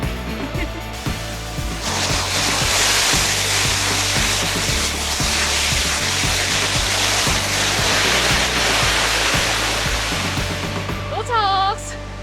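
A Himalayan waterfall near Deurali roars as a broad, steady rush of falling water, loud and continuous throughout. Footsteps or light knocks run beneath it, and a brief voice is heard near the end.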